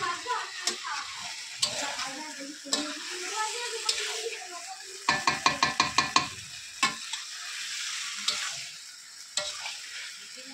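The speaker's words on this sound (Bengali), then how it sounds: "মাংসটা মাঝে মাঝে নেড়ে চেড়ে নিতে হবে যাতে কড়াইয়ে না ধরে নেয়, এবং সুন্দর করে কষাতে হবে।" Meat frying in a kadai while being stirred, with a spatula's rhythmic scraping clicks and clatters over a steady close sizzle, including a quick burst of rapid strokes midway; no talking.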